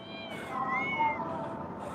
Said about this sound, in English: She's got a gang of cats coming for her.